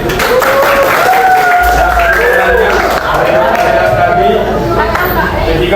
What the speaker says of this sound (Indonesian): Tepuk tangan untuk diri.